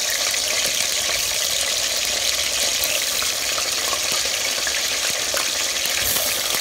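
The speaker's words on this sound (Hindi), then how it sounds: "तो आलू डालेंगे इसके अंदर और इनको गोल्डन ब्राउन होने तक फ्राई करेंगे" Potato slices frying in hot oil over high heat for aloo ki katlian, a steady loud broadband sizzle and crackle running throughout with faint occasional clicks, no voices.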